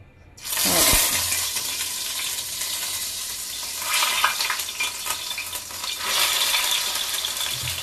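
Bitter gourd (karela) drops into hot oil on a high gas flame and erupts into a loud, close, bright sizzle that holds steadily, swelling in a couple of bursts as the pieces shift.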